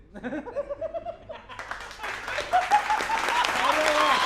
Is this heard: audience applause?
yes